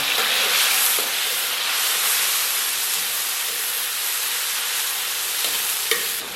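Ginger and homemade chili sauce stir-frying in oil in a wok, giving a steady, loud sizzle and hiss that runs the whole time, with a few faint scrapes and knocks of stirring.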